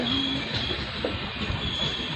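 Continuous rumbling roar of train wagons rolling past nearby, with faint rhythmic clatter and a brief high squeal.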